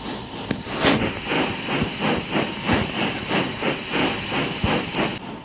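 Steam locomotive puffing steadily, a rapid rhythmic series of loud hissing chuffs about every half second, close and continuous with no voices.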